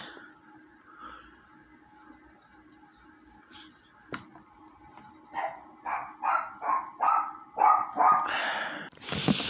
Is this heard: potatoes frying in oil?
no